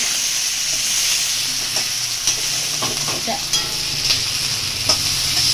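Potatoes, capsicum and tomato sizzle and fry steadily in a pan, with a constant bright hiss and occasional soft stirring scrapes, heard close and alone without voices.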